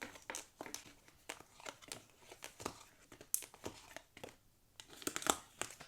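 Tarot cards being drawn from a deck give off soft, close shuffling and crinkling rustles in irregular bursts, quiet and with no one speaking.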